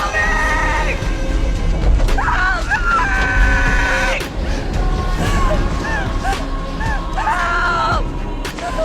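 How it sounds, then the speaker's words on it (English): A woman in a film screams for help, with several strained, wavering high cries that rise and fall over a noisy, rumbling background across roughly nine seconds. "she screamed for help."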